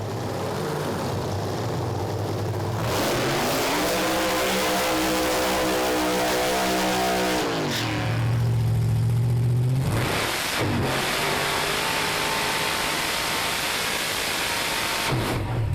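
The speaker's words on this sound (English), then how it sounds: "Ben Bray pretty busy on the steering wheel there, keeping the Gulf Western Oil Corvette straight in his burnout" Gulf Western Oil Corvette race car doing a burnout, its V8-style engine revving hard in long sustained bursts, rising and falling in pitch with brief drops between, loud and close with no commentary over it.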